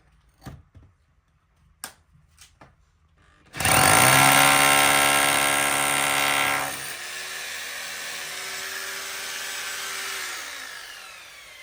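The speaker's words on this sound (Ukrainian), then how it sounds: "Свердлимо ще один отвір та забиваємо арматуру." A few sharp knocks, then a loud hammer drill roars into a 5 cm concrete floor screed for several seconds before easing to a lower, steady whine that winds down.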